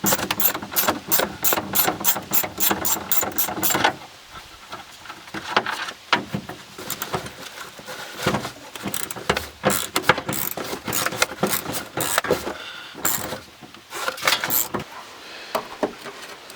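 A ratchet wrench clicks rapidly and steadily while unbolting the taillights on a junkyard Plymouth, then gives way to irregular metallic clanks and handling noises, close and loud.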